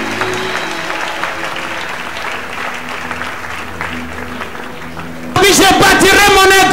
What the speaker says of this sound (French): Acclame pour le Seigneur Jésus.